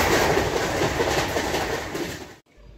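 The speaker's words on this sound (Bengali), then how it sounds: "ভদ্রক যখন ছেড়ে ট্রেন এগিয়ে চলল জাজপুর কেওনঝড় রোডের উদ্দেশ্যে" A Howrah–Bhubaneswar Jan Shatabdi Express passenger train rolls along the tracks, a steady loud rumble with rhythmic clatter of wheels, cutting off abruptly near the end.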